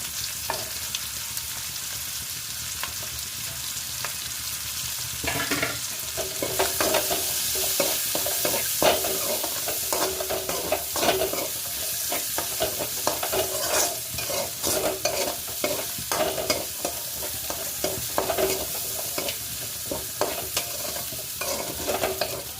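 Ginger sizzling in hot oil in a pan while being stirred for tuna pickle, a steady crackling fry with repeated scraping strokes of a spoon throughout, close and fairly loud.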